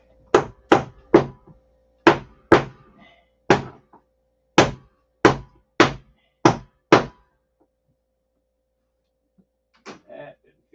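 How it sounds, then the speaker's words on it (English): A small paint can hammer taps down a paint can lid in a quick series of about eleven sharp metallic knocks, grouped in uneven bursts, close and loud, followed by a quiet pause and a couple of softer sounds. "got my little paint can hammer"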